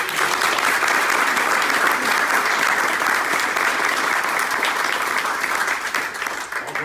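A ceremony audience gives sustained applause at a French reserve citizen commander insignia presentation, dense steady clapping at full volume for about seven seconds, tapering slightly at the end.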